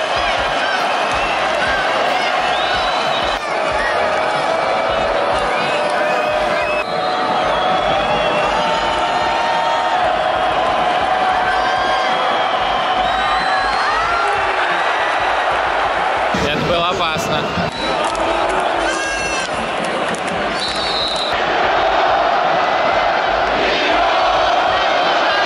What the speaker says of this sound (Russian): как все орут вокруг и поддерживают свою команду